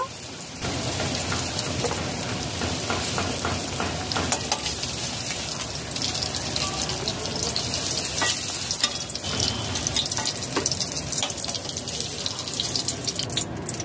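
Pumpkin pieces fry in hot oil with a dense, steady crackling sizzle, close and continuous throughout, with scattered louder pops and a few stirring scrapes.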